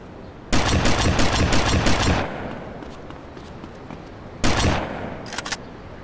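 Video game gunfire in GTA Vice City Stories: a dense automatic burst of rapid shots lasting about two seconds, then a second burst a couple of seconds later with a few scattered shots trailing off, loud and close.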